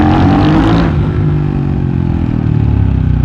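A 2023 CCM Maverick scrambler motorcycle revving hard inside a tunnel, its loud, throbbing engine note echoing off the walls, close and steady with no talking.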